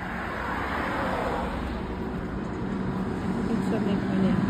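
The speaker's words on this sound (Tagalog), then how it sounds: "Ang daming sasakyan nito." Steady road traffic from many vehicles passing along a busy street on a holiday, a continuous broadband rumble with a swell near the end; speech is heard over it.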